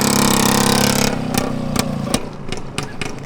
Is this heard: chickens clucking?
no